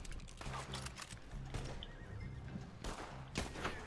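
A horse whinnies and snorts in a video game while hooves clip-clop in a steady rhythm, all fairly quiet and close.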